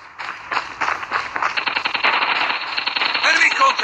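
Rapid automatic gunfire from a video game shooter rattles in dense, continuous bursts, loud and close, with mixed battle noise and a voice speaking in the background.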